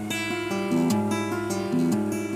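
Clean electric or acoustic guitar picks out the high 5 shape from a song: a short, close run of plucked notes that ring together, with two brief higher accents, played alone.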